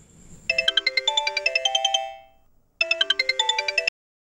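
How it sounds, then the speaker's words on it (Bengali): A mobile phone rings with an incoming call in a Bengali horror audio drama, a bright repeating melodic ringtone playing in two bursts, the first about one and a half seconds long, then a pause and a shorter second burst, clear and close with no talk. "এমন সময় দেখি শর্মিলার কল আসছে।"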